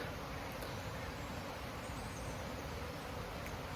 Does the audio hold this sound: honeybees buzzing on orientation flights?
yes